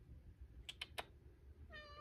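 A house cat meows a few times at home, short faint calls over a quiet room hum, followed by a thin high tone at the end.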